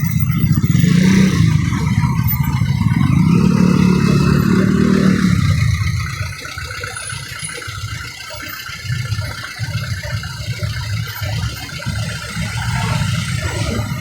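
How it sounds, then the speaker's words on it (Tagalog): Jeepneys pass one after another in Manila street traffic in Sampaloc, loud engines rumbling and revving close by, fading then returning as more vehicles roll past, with no talk. "Ay, sunod-sunod, daming jeep."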